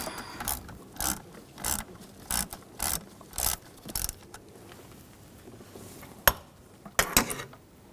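Socket ratchet working a cam sensor bolt on a 2006-2010 BMW 550i 4.8L V8, a series of close, crisp clicking bursts in an irregular rhythm with short pauses, followed by a couple of sharp metallic knocks.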